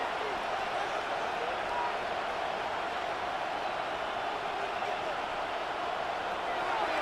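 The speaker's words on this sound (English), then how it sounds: "this crowd making it hard to hear" Steady, dense stadium crowd roar from a Madden football video game, Lions vs Bears, filling the whole stretch at an even level with no breaks, loud and continuous like a wall of noise.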